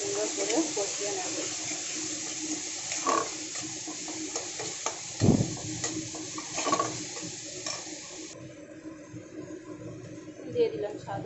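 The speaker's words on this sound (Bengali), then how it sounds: "এখন আমি দিয়ে দিচ্ছি বেটে রাখা মশলা। মশলাটাকে সুন্দর করে কষিয়ে নেব।" Ground spice paste fries in hot oil over a low gas flame, giving a steady soft sizzle with stirring scrapes and a sharp clatter midway, partly under a voice.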